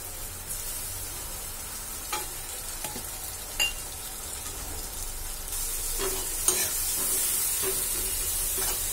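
Onions fry in a pan as red chili and turmeric paste goes in, a steady close hiss and sizzle with occasional stirring clicks and taps, growing a little louder toward the end, no talk.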